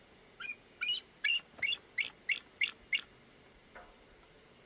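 A person imitates an eagle's cry, giving a run of about eight short, sharp, bird-like screeches at a steady rhythm, fairly close and clear over a quiet background, with a fainter call trailing after.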